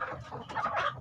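Rooster chickens cluck and mutter close by at a farm coop in Indonesia, a short burst of overlapping throaty fowl calls.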